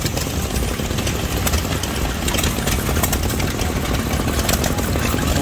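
An International LB antique gas engine powers a pump at an old threshers gas engine show, a loud continuous close-up putter with busy mechanical clatter at an even pace.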